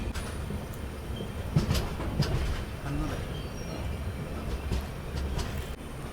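Kacheguda–Yelahanka Express rolling along the rails near a flat, platformless station, a continuous mid-level rumble with faint clacks and scattered ticks, heard from on board for several seconds.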